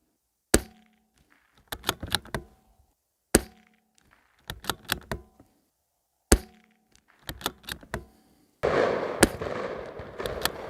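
Rifle shots fired from a shooting bag rest: three loud, sharp cracks at steady intervals, each followed by a cluster of smaller mechanical clicks and knocks, ending in a burst of broad noise.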